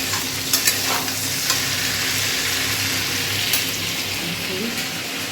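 Vegetables frying in a pan on a home stove, a dense steady sizzle with light stirring scrapes and a few faint clinks, heard close and moderately loud.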